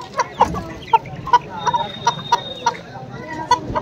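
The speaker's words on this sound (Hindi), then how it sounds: "मुर्गी के बच्चे बहुत शानदार है भाई," Desi hens and chicks clucking and cheeping at a market, a busy run of short sharp calls close by with a faint background murmur.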